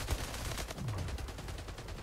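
Gunfire in the video game Splitgate crackles as a rapid burst of quiet shots, blended with low game ambience and no clear speech.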